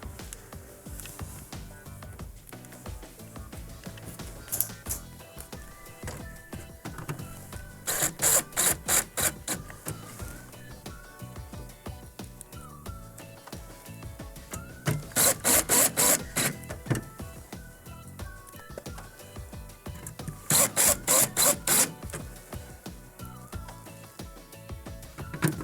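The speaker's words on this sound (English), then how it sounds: "re-securing the actual control board onto the control panel assembly with the 5 Phillips screws we removed earlier" A screwdriver drives Phillips screws to re-secure the control board of a Whirlpool or Maytag microwave's control panel, with three loud bursts of mechanical whirring separated by quieter handling clatter, close by and without talk.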